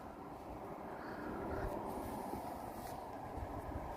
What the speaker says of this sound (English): What kind of train was that?